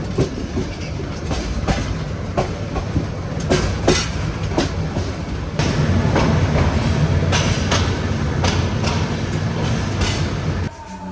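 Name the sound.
train passing by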